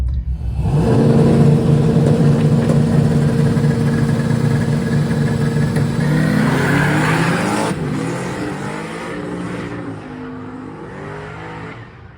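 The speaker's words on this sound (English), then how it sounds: "We're racing this F-body back there." An F-body car roars down the strip in a drag race, engine loud and close with a sustained rising wail through the gears, then fading and easing off toward the end.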